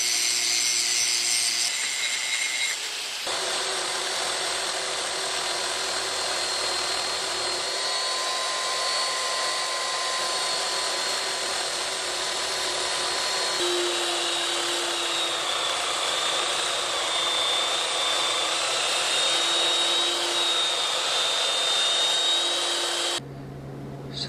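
Angle grinder working the edges of two steel plates tacked together, a loud continuous abrasive whine and rasp holding steady for over twenty seconds before cutting off abruptly.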